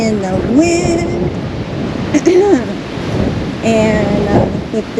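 Strong 25 mph wind gusts across an outdoor garden, a loud, constant roaring rumble buffeting the microphone while a voice talks over it.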